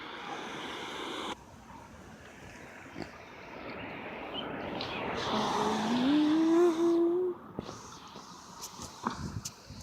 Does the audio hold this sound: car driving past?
yes